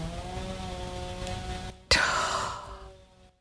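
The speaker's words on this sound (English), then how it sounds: "can you hear that chainsaw?" A neighbour's chainsaw drones steadily at a distance for the first half, then a sudden loud burst cuts in and slowly fades to near silence.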